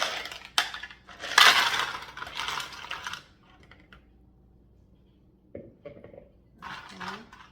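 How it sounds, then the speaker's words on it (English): Ice cubes clatter and rattle as they are dropped into the tank of a Britezen portable air conditioner, a loud close tumble followed by quieter clinks and a brief shuffle. "I'm gonna put some ice in here and demonstrate, you know, how it works."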